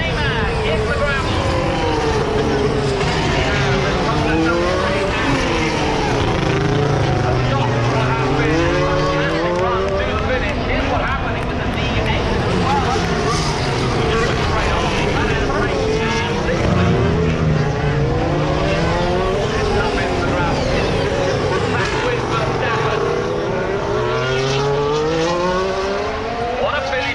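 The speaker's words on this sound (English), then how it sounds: "Max Verstappen in the stadium section, hunting down the six-time world champion" Formula 1 race cars from the 2019 season roar past a trackside spot at turn 11 in a stadium section, engine pitch sweeping up and down in repeated passes, loud and continuous, with commentary voices running underneath throughout.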